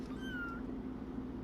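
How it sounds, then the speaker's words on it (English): A single brief, thin kitten meow rises once near the start, faint over a steady low indoor hum, then the room goes quiet. "she is here to do first vet exams for Kittens and Eve, and hopefully Sloanie's kittens"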